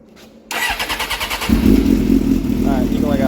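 A rebuilt sportbike motorcycle engine cranks with a rhythmic starter churn, then catches and fires into a loud, close idle with a blip of revs; speech is faintly present.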